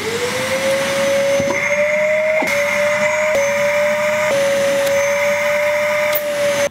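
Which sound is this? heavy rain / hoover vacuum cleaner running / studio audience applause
hoover vacuum cleaner running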